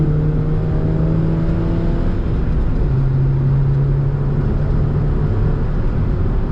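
Renault Clio 2 with a 1.6 16V petrol engine running steadily and close, a loud continuous drone with engine tones that shift in pitch partway through, alone with no talk.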